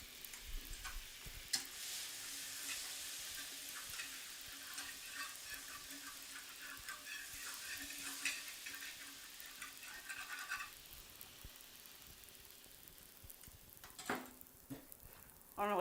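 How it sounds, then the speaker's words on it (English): Butter sizzles and fries in a hot pan as a couple of tablespoons are added before making country gravy, a soft steady hiss that holds for several seconds and then thins out, with no voices. "So to the pan, we're going to add a little extra butter"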